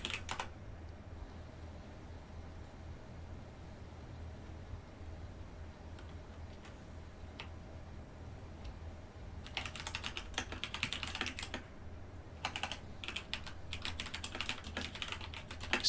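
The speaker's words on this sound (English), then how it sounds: "Still typing a will, Shadow." A computer keyboard types faintly over voice chat during an online Town of Salem game; after a long quiet stretch of hiss come several brisk bursts of key clicks.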